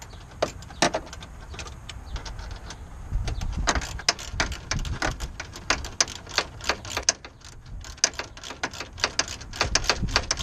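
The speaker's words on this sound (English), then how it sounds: "I'm going to take my wrench, put my wrench on" A wrench tightening a bolt at the back of a Toyota Tundra, with a run of sharp, irregular clicks and clacks close by over a low background rumble, and no talk.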